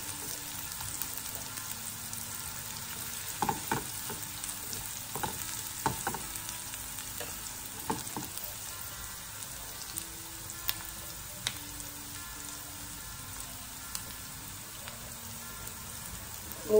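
Onions fry in hot oil for a simple dal tadka, a steady soft sizzle running throughout with a few louder pops and stirring clatters, fairly quiet and close, no voices.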